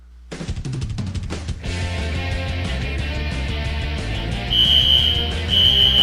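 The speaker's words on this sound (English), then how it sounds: "that's my carbon monoxide detector" A home carbon monoxide detector sounds a high, piercing electronic tone in repeated bursts, breaking out over loud ongoing music.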